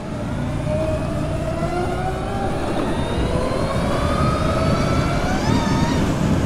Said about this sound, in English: Just literally just spun the back tire. These things got some torque.